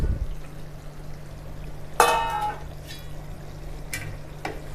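Chicken roast stirred in a pan: a soft steady sizzle throughout, broken by a sharp scraping stir about halfway and a couple of lighter scrapes near the end, close and with no talking.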